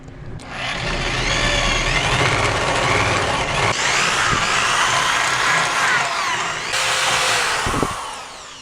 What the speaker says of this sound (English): Okay, we finally made up to the 1/2 inch drill bit.